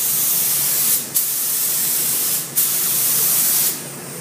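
A paint spray gun lays the third and final coat on a car panel, hissing loudly in long continuous passes with short breaks between strokes; no talking.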